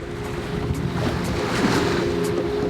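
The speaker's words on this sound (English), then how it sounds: "Got like 3 to 4 foot, kind of like rolling seas with like 8 knots of wind" A sailing boat moves through rolling seas of three to four feet with about eight knots of wind, giving a steady broadband rush of water and wind noise that holds continuous and fairly loud throughout, with no talk.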